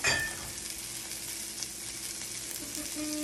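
Halved garlic sits face down in a hot pan and sizzles steadily with a bright, close crackle that holds even throughout, with no speech.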